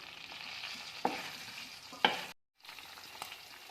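Soaked red chillies and chopped onion sizzle in a hot pan for red chutney, giving a steady close frying crackle. A couple of sharp stirring clinks sound partway through, and there is a brief dropout before the sizzling resumes.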